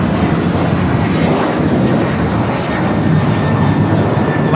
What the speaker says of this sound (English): Alaska Airlines Flight 6 taking off to Washington Reagan National on the 737-800 in the Honoring Those Who Serve livery